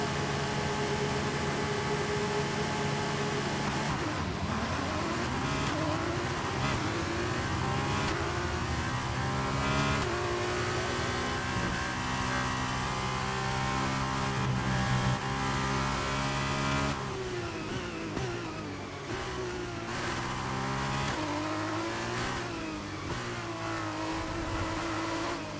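Formula race cars roar around a track in the F1 23 video game, with a steady high engine whine rising and falling through gear changes and cars passing by, continuous and loud without talk.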